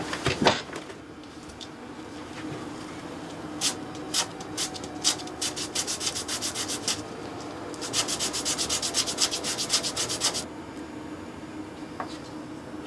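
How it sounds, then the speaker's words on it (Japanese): A fountain pen part shaved down by hand, giving close rasping strokes that start sparse, then fall into quick rhythmic runs of scraping before stopping. "周囲がちょっと太すぎるので削ります。"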